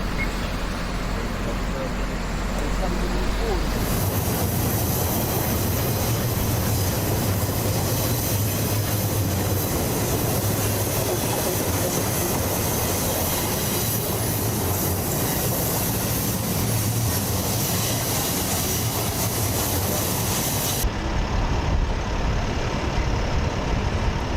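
Driverless railroad cars roll along the track on their own in Beverwijk, Netherlands, a steady loud rumble of wheels on rail with faint squeal, while voices talk over it throughout.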